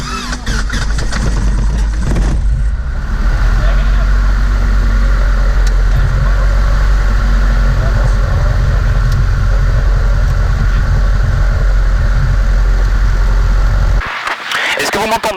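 A DR400 light aircraft's piston engine runs loud and steady after a rough start, a constant droning rumble that cuts off near the end.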